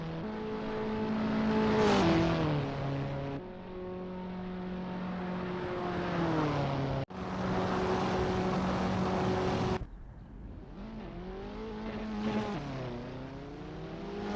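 An Abarth 500 racing engine in the Assetto Corsa video game, on track at Prague, drones and revs through gear changes with rising and falling pitch, sustained and fairly loud, with no talk.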